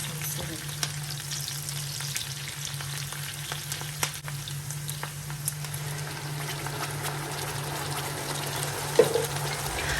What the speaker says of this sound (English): I'm going to fry these for about 3 minutes or until the onions are nice and tender